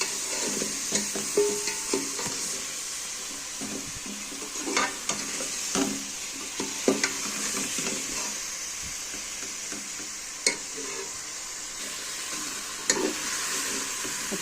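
Potatoes and green chilies frying in a mustard oil masala, giving a continuous sizzle and hiss with occasional stirring scrapes and clinks across the whole stretch, steady and close, with no voices.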